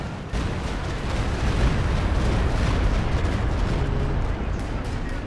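A Walking Stuka rocket barrage in Company of Heroes 2 rumbles as a continuous, dense roar of overlapping explosions, loud and sustained for several seconds before easing slightly, with faint talk underneath.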